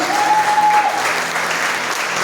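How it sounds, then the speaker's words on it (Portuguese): A church congregation applauds during an evening worship service, a dense, steady wash of clapping filling the room, with a sustained tone running through its first second. "Você pode aplaudir o Senhor Jesus?"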